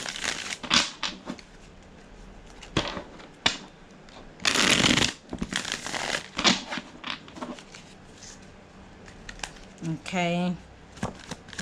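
Tarot cards are shuffled during an intuitive reading, with repeated brisk riffling bursts and crinkly card noise in quick clusters, close and clear, while a person speaks briefly between them.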